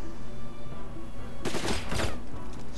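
Gunfire in the tactical game Silent Storm: a steady ambient hum, then about a second of rapid, close shots rattling in a quick burst before it thins out again.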